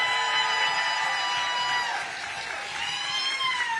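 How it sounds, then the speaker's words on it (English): Audience at a Democratic political rally clapping in a steady, dense round of applause that continues throughout, with crowd noise mixed in and no clear speech. "Let's give them a round of applause."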